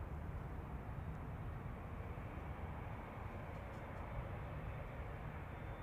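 Qatar Boeing 787-9 Dreamliner, registration A6BLZ, at Manchester Airport, giving a steady, broad jet roar that holds at an even loudness throughout, with no voices.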